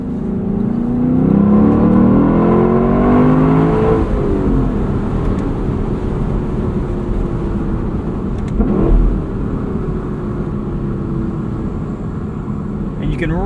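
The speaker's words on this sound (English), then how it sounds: "you can really enjoy that soundtrack in the convertible LC500" A 2024 Lexus LC 500 convertible's engine drones and revs steadily while driving with the top down, with a shifting pitch, a brief swell near the middle and constant road and wind noise around it.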